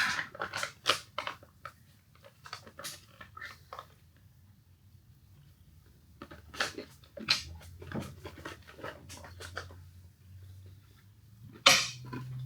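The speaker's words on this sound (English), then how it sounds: "Yeah, that is a crunchy biscuit." Loud crunchy bites of a freeze-dried biscuit close up, coming in clusters with quiet pauses between, over a low background hum.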